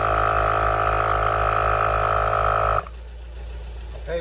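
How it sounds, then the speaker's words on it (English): A 12V 40-litre air compressor inflating a large Volkswagen Transporter T5 van tyre runs loud and steady with a strong low hum, then cuts off abruptly, leaving a quieter background. "this compressor can do it in 3 minutes when the engine is running"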